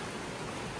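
Heavy rain pours outside a room's balcony at a resort in Coorg, a dense, even hiss that fills the brief moment with no other sound.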